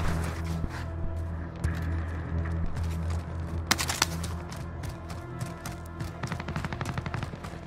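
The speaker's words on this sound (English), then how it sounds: "Shots to the left?" Gunfire in Call of Duty Warzone, Verdansk Resurgence: a steady run of sharp shots and rapid bursts through the whole stretch, with a denser crackling volley near the middle and more quick shots toward the end, loud and close.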